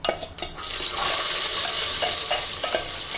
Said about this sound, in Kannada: ಸಾಸಿವೆ ಎಲ್ಲ ಸಿಡಿಯೋಕ್ಕೆ ಶುರುವಾಗಿದೆ.